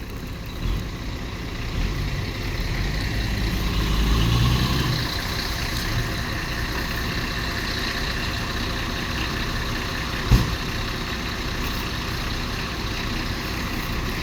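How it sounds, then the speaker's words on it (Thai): Long-parked truck running after its first start: a steady diesel idle rumbling close by, swelling briefly around a slight rev, with a sharp knock or hiss burst near the end. "เครื่องดีเลย โอ้ โอ้แรงแรง"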